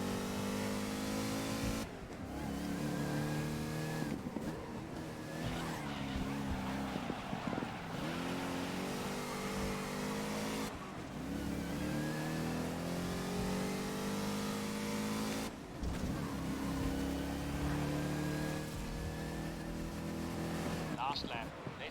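A race car engine in the racing video game GRID revs and roars continuously at high pitch, shifting up and down through gears, loud and steady throughout.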